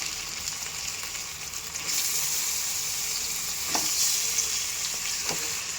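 Chicken frying in a pan with ginger and garlic for a chicken curry, a continuous loud sizzle that gets stronger partway through, with a couple of sharp utensil clinks near the end.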